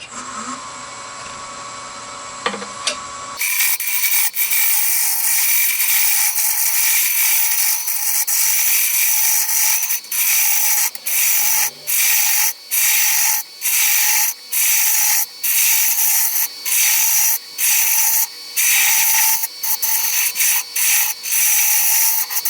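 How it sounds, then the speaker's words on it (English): Roughing gouge cutting a spinning wooden blank on a lathe while shaping a darning egg: a steady, loud scraping hiss after the motor starts, broken by short regular pauses as the tool lifts off and returns. "So let me get rid of all of this here. And I just use my roughing gouge."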